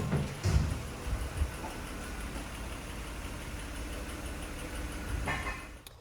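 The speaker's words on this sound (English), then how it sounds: "That ticking noise is probably engine." A car engine idling quietly with a light, steady ticking under it, plus a couple of louder knocks near the start and again near the end.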